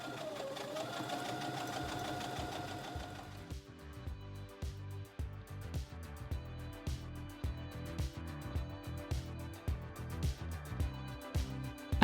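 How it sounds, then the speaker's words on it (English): Sewing machine topstitching the hem of a leather mini dress, a steady whirring run of rapid needle strokes after a few seconds of quieter mechanical hum, close and alone without talk. "I top stitched the hem to give it the same look as the rest of the seams"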